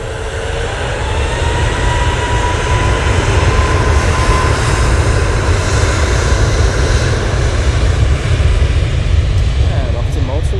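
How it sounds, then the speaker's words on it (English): A Boeing 737 MAX 8 jet takes off from Manchester Airport: a loud, steady, broadband engine roar holds for the whole stretch, with a faint whine riding on top and a voice talking over it. "737 Max 8 time for you."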